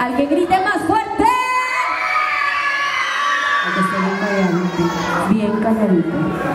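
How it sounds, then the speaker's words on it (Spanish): Children at a fifth-birthday party show shout and cheer loudly together in a sustained burst, a crowd of young voices with rising whoops, an adult voice also present. "¡Que grite más fuerte!"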